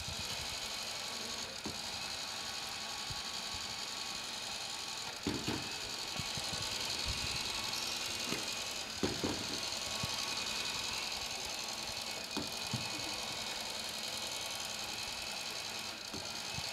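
A robot intake and shooter prototype for the 2024 FRC Crescendo game runs at 25% speed, giving a steady mechanical whir with gear and ratchet-like clicking and a few sharper knocks, close and moderately quiet.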